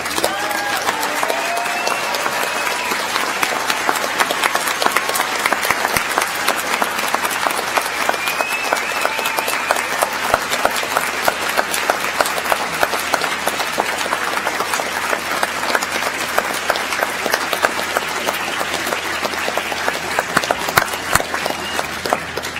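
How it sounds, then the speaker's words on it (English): Sustained, rousing applause from a large crowd at a 2018 university commencement ceremony, dense and steady throughout with no pause, filling the hall at a constant level. "let us give them a rousing round of applause"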